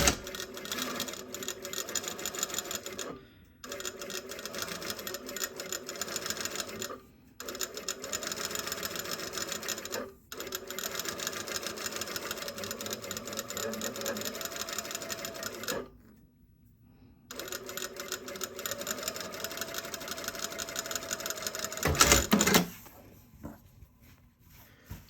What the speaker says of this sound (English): Now what I'm going to do is pin stitch around this edge here to hold it down.